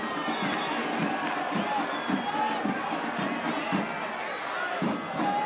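A football stadium crowd at a USL Championship match between Phoenix Rising FC and El Paso Locomotive FC roars and cheers continuously, a dense sustained wall of voices with scattered shouts and claps throughout.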